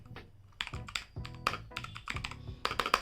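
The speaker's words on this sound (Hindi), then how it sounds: "मेरे को स्पेस बार का साउंड बहुत ही अजीब लग रहा है," Typing on a Portronics mechanical keyboard with blue switches, a close run of crisp, clicky keystrokes in quick irregular bursts with brief pauses, and no talking.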